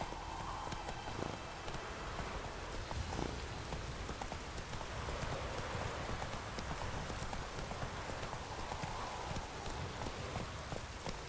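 Horse hooves clip-clop steadily over wet ground in The Witcher 3: Wild Hunt, with constant rain pattering on the surface all around, the hoofbeats close and continuous beneath the downpour.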